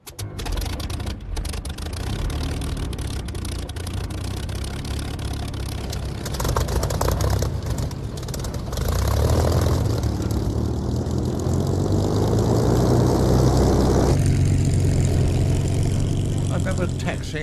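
Engine start-up on a Spitfire fighter plane, a loud continuous piston roar that builds and settles into a rough, throbbing run with some shifts in pitch, while someone talks over it.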